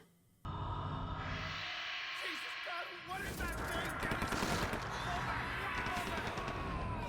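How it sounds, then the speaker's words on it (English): Rapid bursts of gunfire and screaming men from the video game Outlast in a dense, chaotic battle mix, loud and continuous after a brief quieter opening with voices. "before hearing the gunshots and screaming of men"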